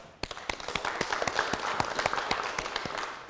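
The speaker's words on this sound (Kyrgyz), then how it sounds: "Кол чабуулар болсун." Studio audience applause on a televised family game show semifinal, a steady wash of many hands clapping with sharp individual claps standing out, sustained and fairly close throughout, with no talking.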